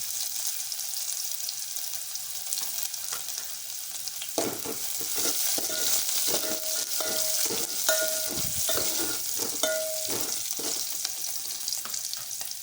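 Chopped onions hit hot oil in a pan already seasoned with a spoonful of cumin, setting off a bright continuous sizzle, with stirring scrapes and clatters breaking in from the middle onward.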